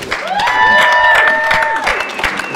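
Sparse, half-hearted clapping from a press audience at a press conference, scattered hand claps under a sustained tonal sound and some voices.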